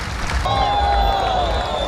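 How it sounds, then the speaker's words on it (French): A bullring audience applauds in a steady wash of clapping and crowd noise, fairly loud and continuous throughout. "Le taureau part sous les applaudissements du public."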